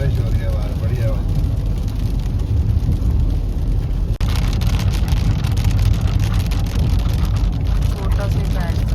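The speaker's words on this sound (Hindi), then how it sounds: "अच्छी बारिश हो रही है बाहर, बढ़िया बात।" Heavy rain drums on a car during a thunderstorm on a road trip toward Ladakh, a dense continuous patter on the roof and glass, with talk inside the cabin.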